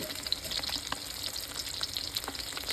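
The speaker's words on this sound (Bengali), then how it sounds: "একদম মাছটাকে একদম বড়ার মতো করে কড়কড়ে করে ভেজে নেবো" Fish frying crisp in hot oil gives a soft, steady bubbling sizzle with light crackles, quiet and close, with no voices.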